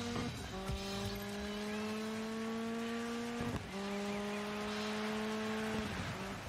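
Racing car engines in a video game streamed through the Xbox cloud app drone with a loud, steady, buzzing pitch that breaks briefly midway as if shifting gear, then carries on, with no voices over it.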